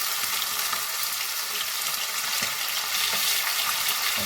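Fish pieces frying in a pan give a steady, close, loud sizzle with crackling oil and faint spatters throughout, with no talk over it.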